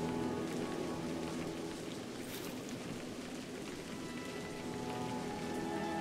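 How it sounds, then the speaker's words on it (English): Rain in the video game A Highland Song, a steady dense hiss of falling drops on surfaces, even and continuous throughout with no voices. "Maybe I should wait out the rain because I can't see and it's making me lose health."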